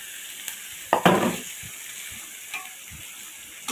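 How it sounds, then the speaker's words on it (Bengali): Beef sizzling as it is stir-fried kosha style in a pan, a soft steady fry hiss broken by a brief louder burst of sizzle and stirring near the start. "এই যে মাংসটা কষানো হচ্ছে।"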